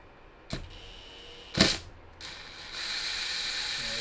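Ratchet tightening a bolt on a humanoid robot actuator during assembly, two sharp clicking bursts followed by a softer rasp of the mechanism, close and isolated.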